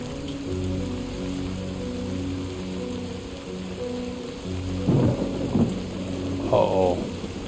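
Video game rain pours steadily throughout, with two loud rumbling thunder cracks near the end, no voices.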